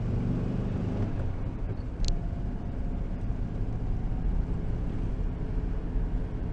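A 1962 Morris Minor engine fitted in a VW T2 bus runs steadily, a low muffled rumble heard from inside the cabin, with one brief sharp click partway through.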